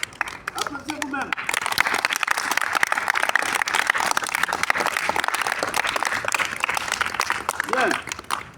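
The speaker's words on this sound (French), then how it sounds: "Applaudissez vous-même." Audience clapping for themselves at a talk on sport and education, dense sustained applause that swells loudly after a brief voice at the start and fades near the end, where a voice is heard again.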